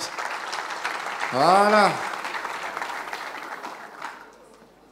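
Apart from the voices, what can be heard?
audience applause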